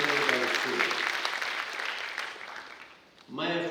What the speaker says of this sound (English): I would like to have all of you join together for a round of applause for the excellent music, prayers, and the excellent dance